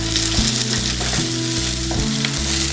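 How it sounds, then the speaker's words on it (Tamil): Mustard seeds and onion frying in hot oil for Tamil Nadu style kadala curry, a loud, dense, continuous sizzle close by with periodic stirring scrapes. "கடுகு பொரிஞ்சு வச்சு இதில் ஆனியன் போட்டுடலாம்."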